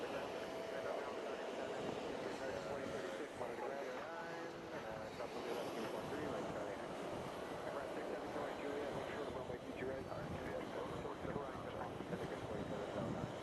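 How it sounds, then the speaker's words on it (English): A Scandinavian Airbus A321 LXR, flight 923 from Oslo, comes in to land at JFK, its engine roar steady and broad beneath someone talking, with wind buffeting the microphone throughout. "Airbus A321 LXR coming in from Oslo. That's Scandinavian flight 923."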